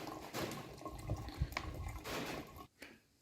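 Water squeezed out of a bottle through a hiking filter on a trek along the Bibbulmun Track in Perth, quiet trickling and splashing in short bursts with small drips, close by.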